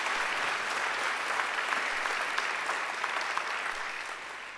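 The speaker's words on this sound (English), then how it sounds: "I think Angela deserves another great round of applause." A graduation ceremony audience gives a sustained round of applause after a singer performs, a broad even roar of many hands clapping in a large hall that fades slightly toward the end.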